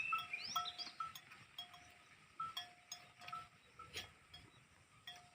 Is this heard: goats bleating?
yes